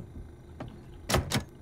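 A door being hacked open in the zombie survival game 7 Days to Die, with one light knock and then two loud, sharp strikes in quick succession over a quiet background.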